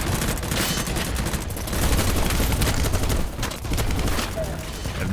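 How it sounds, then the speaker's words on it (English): In the video game Battlebit, dense rapid gunfire crackles in continuous bursts for about five seconds, loud and close with overlapping shots and a few heavier thuds. "I have no idea where I'm getting shot from"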